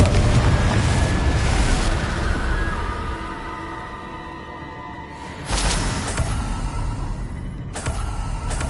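Confringo spell explosions in Hogwarts Legacy burst loudly, a broad blast at the start fading into a rumbling tail, then two more sharp bursts follow later.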